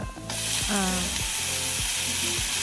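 Biryani ingredients, including washed coriander leaves and mint, sautéed in a pan, giving a steady close sizzle with rhythmic scraping of a spatula stirring through, and no talk.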